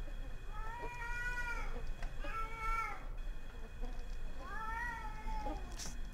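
A cat creature in the horror video game Erie meows three times, drawn-out and clearly audible over a low, steady ambient hum, with gaps between the calls.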